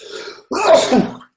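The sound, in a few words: sneeze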